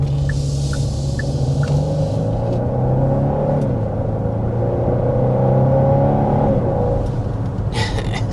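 Engine of a 2025 Genesis GV70 in sport mode, heard from inside as it accelerates with a steady, rising drone that climbs in pitch, settles after a gear change, and climbs again.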